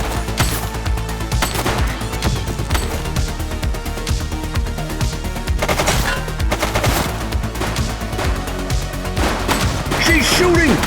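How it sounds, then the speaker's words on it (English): Sustained rapid gunfire fills the police video game The Precinct, loud and continuous automatic bursts rattling without a break, with shouted voices mixed in over the shooting. "She's shooting!"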